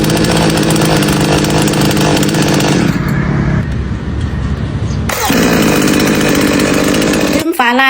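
A push-button-start chainsaw engine roars steadily, drops briefly to a lower idle in the middle, then revs back up loud and close.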